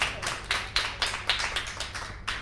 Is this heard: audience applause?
yes